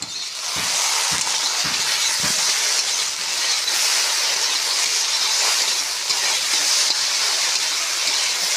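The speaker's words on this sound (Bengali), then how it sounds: "দেখো এই যে ভেন্ডিও ভাজছি" Steady, loud sizzle of okra frying in hot oil, a continuous crackling hiss with a few soft knocks in the first couple of seconds.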